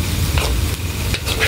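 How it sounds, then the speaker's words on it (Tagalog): Instant pancit guisado noodles with kikiam, squid balls and fish balls are stirred in a sizzling pan, producing loud, close scraping and tossing strokes over a steady frying hiss, with no one speaking. "Ayan, halu-haluin po."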